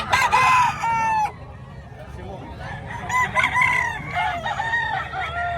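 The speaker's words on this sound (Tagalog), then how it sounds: "Ito mga manok ko pala" Roosters crow loudly and close by, several long calls overlapping, with chickens clucking in the background, at a market in Bocaue, Philippines.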